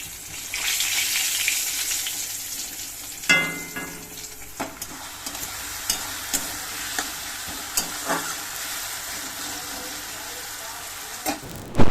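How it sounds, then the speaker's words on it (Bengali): Pointed gourd (potol) frying in a pan on a home kitchen stove, giving a steady broadband sizzle with occasional sharp clinks and stirring scrapes, close and fairly loud, with no talking. "আর এদিকে দেখো একটুখানি পটল ভাজছি"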